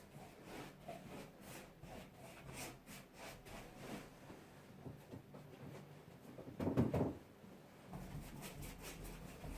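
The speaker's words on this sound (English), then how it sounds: "A little bit of 2-pack filler in there, very, very fine. Goes off quickly, sand it down" Fine two-pack filler being sanded down by hand, a faint series of rhythmic rasping strokes, briefly louder near the end, with no talking.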